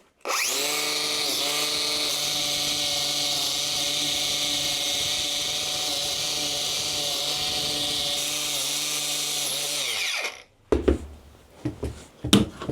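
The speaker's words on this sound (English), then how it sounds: "what I've got is a wire cut wheel that will go onto my angle grinder" Angle grinder fitted with a wire wheel scrubbing rust off metal, a loud, steady high-pitched whine running unbroken for about ten seconds before spinning down, followed by a few short knocks and handling clatter.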